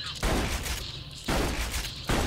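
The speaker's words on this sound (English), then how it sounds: "Your gun just doesn't shut up" Rapid gunfire from a gun in the video game Borderlands 2, a dense sustained rattle in three loud bursts, with a person talking over it.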